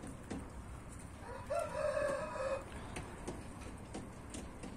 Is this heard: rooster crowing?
yes